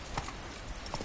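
Hoofbeats of the horse Roach galloping in a video game, a steady rapid clip-clop rhythm running continuously through the short moment at close, even loudness.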